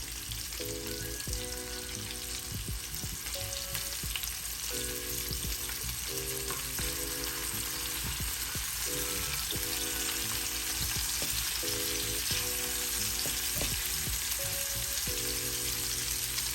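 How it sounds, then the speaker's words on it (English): Mozzarella-filled meatballs fry and sizzle steadily in a pan, a continuous close crackle with some cheese spilling out, while faint clinks and stirring sounds recur throughout; no talking. "once the meatballs start getting a nice little crust like this, some of the cheese is spilling out"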